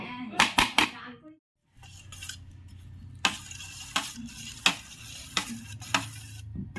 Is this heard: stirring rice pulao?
yes